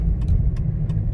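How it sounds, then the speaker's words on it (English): A 2008 Dodge Caliber with worn suspension driving on the road, steady low road and engine rumble with a few faint rattly clunks scattered over about a second. "Definitely sounds like it needs suspension work."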